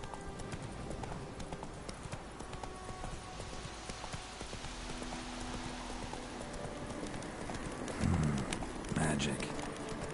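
A horse in The Witcher 3 clip-clopping in a steady hoof rhythm under ambient game sound, with birds cooing and a voice speaking over it.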